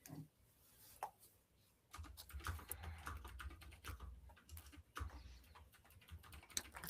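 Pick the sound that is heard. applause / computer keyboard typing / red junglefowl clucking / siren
computer keyboard typing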